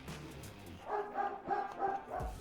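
Several dogs bark in a quick run of about five yips and woofs, at moderate distance indoors, after a quiet start.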